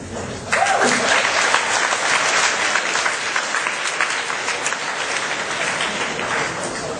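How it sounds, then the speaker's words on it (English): An audience applauds election candidates, a dense, steady wash of many hands clapping at close range, sustained and loud from start to finish with no voices on top. "give these brave candidates another round of applause"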